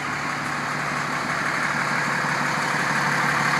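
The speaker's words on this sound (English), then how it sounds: "This is the garbage truck." A garbage truck's engine idles nearby with a steady, low diesel rumble that holds unchanged and fairly loud throughout, with no voices over it.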